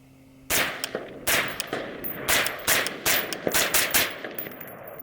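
Suppressed rifle shots from a Surefire Socom RC2 suppressor firing Armscore .223 ammunition, a rapid string of about ten sharp, loud cracks with short ringing tails, fired in quick irregular succession.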